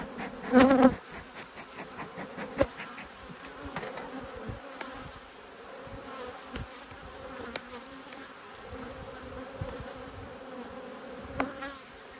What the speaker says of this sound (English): There's a lot of bees up in this box.